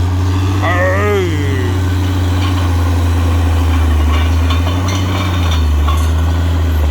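A tractor fitted with a ripper for soil work runs its engine with a loud, steady low rumble throughout, and a voice is heard briefly over it.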